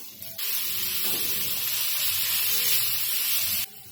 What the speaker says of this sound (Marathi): कांदा गरम होतोय ना तर त्याच्यातच आपण हे आलं लसूण आणि मिरची कुटून घेतलंय ना हे टाकून घेऊया